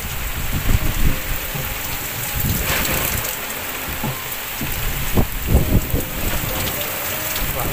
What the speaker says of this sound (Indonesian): Ini lebat banget hujannya.